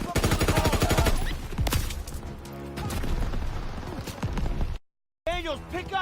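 Gunfire from Pak 38 guns in a WWII video game: dense, loud bursts of rapid firing and booms, broken by a brief silence, with game voices shouting over the battle.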